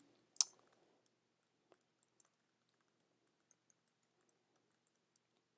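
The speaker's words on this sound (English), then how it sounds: "Again, I'm just clicking and typing." A few sparse, faint computer mouse clicks and typing in a quiet room, one sharper tap near the start followed by scattered light taps.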